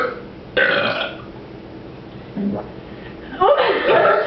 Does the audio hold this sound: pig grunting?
no